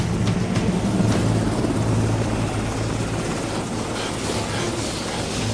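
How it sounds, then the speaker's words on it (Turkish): A helicopter arrives for a military rescue, its steady, loud rotor drone filling the whole stretch with a constant low throb and no voices over it. "Helikopter geldi!"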